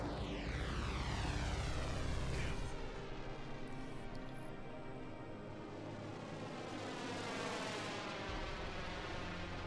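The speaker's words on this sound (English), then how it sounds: "I hate how much the Gladius sounds like an airplane in atmosphere." A Gladius fighter ship in Star Citizen flying through atmosphere with an airplane-like roar: a loud engine drone with a sweeping pass that fades and swells again, no talk.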